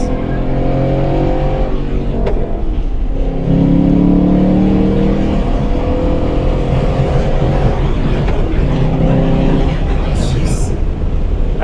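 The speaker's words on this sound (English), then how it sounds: "Just a good old pushrod V8, so smooth." A Chevy SS sedan's pushrod V8 revs hard on a race track, rising and falling through gears with a loud, close, smooth engine roar; someone talks over it.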